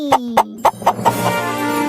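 Animated chickens cluck in a quick run of five or six sharp, close clucks over a tonal background, then the clucking fades into a sustained musical tone.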